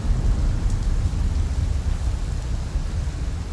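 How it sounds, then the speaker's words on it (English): Heavy rain pours in a steady, dense wash with a deep low rumble of thunder running underneath, continuous and loud throughout. "so the heavens have opened up"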